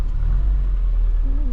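A Classic Mini Cooper engine idles just after starting, a close, steady low rumble with a slight rise in pitch near the end.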